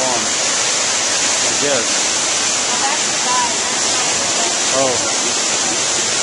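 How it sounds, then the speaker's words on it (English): Water rushes steadily through the channel of a historic bone-grinding water mill at Ballenberg, forming a loud, constant broadband roar, while a person speaks briefly over it. "They've changed the water, so most of the water now is going through here."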